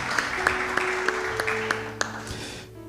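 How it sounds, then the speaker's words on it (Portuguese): Brief, light applause from a small congregation at a garage church service, a few distinct claps over a sustained tone before it cuts off. "Você pode aplaudir o nome do Senhor e glorificá-lo?"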